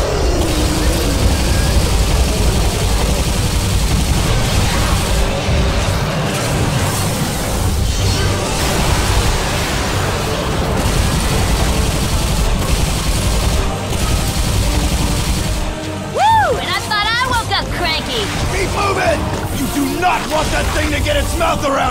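Gunfire from the video game Bulletstorm, a dense, loud barrage of shots and booms rolling on without pause, with shouting voices and creature noise mixed through the chaos.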